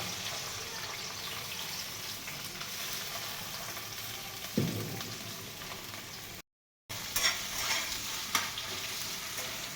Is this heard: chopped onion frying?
yes